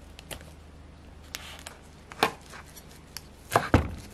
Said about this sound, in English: Slice your basil.